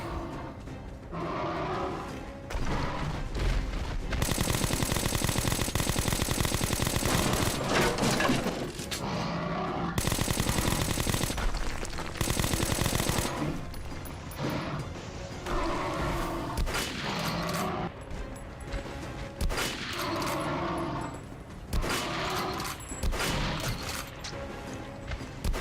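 Gunfire in Metro Last Light, with repeated bursts of loud automatic shots and sharp cracks in several clusters over about twenty-five seconds, mixed with crashing game effects.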